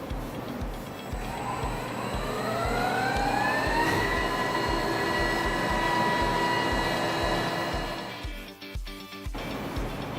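A CNC lathe in a machine shop turns a bushing. A steady mechanical hum carries rising whining tones as the spindle speeds up, with rhythmic low thumps, and a brief clattering burst comes near the end.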